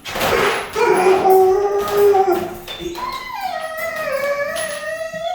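A dog howls in long, wavering rising and falling tones, up close, while a person speaks a single brief word at the start.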